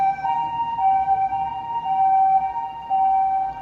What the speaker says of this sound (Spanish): hay una ambulancia y se escucha el ruido.